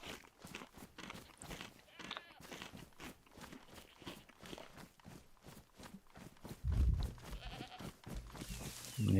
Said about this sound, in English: The sheep you can hear get to live another day.